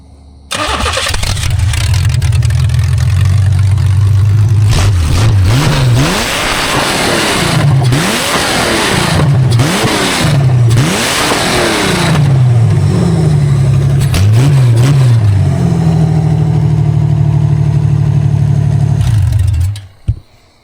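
A demolition derby car's engine starts and runs loud and close, revved hard in repeated rising and falling bursts over a rough idle before it cuts off at the end.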